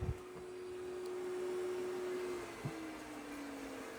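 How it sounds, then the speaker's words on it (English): Dyson Spot+Scrub robot vacuum running in vacuum-only mode over a dry mess with the mop roller lifted, a steady motor hum with a falling tone near the end and a couple of faint knocks. "It lifted the mop roller and it's vacuuming only."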